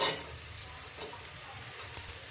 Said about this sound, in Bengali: পেঁয়াজটাকে দিয়ে দিলাম পেঁয়াজটাকে দিয়ে আরও আমি আরও পাঁচ ছ মিনিট ভাজি